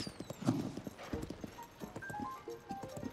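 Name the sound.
horse galloping hooves in Zelda Tears of the Kingdom video game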